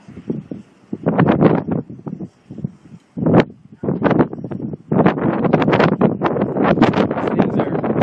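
Strong wind gusts batter an outdoor microphone during a windy drone flight test, making loud buffeting bursts that come and go for several seconds before settling into a sustained roar.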